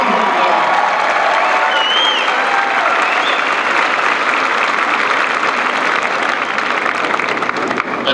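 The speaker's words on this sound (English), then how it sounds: "Let's just give yourself a big round of applause for the team." A commencement ceremony crowd applauds the team, loud sustained clapping with some cheering filling the hall steadily throughout.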